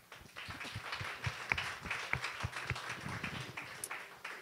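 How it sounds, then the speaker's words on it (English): Scattered clapping from a small group at a business center member recognition event, uneven and moderately loud, with a few sharper claps standing out over a soft background murmur. "give yourself a round of applause"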